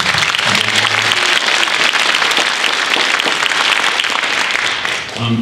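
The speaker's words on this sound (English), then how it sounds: "if we could give them a round of applause" A high school winter band concert audience gives loud, sustained applause for soloists, a thick wash of clapping that carries throughout and tapers slightly near the end.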